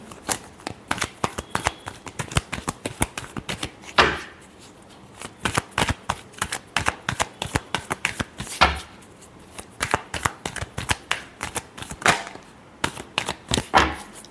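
Tarot cards are shuffled by hand in repeated bursts of quick, crisp slaps and riffles with short pauses between, close and alone throughout.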